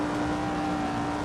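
Cosworth DFV 2.5-litre V8 in a classic Lotus Formula 1 car in Assetto Corsa, a steady, dense engine drone held at high revs with a strong constant tone, loud and continuous with no talk.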